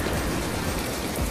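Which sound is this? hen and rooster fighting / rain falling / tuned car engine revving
rain falling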